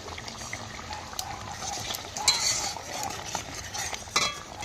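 A spicy prawn curry simmers in a pan with soft bubbling and a spoon scraping and clinking as it is stirred, close and moderately quiet, with no talk.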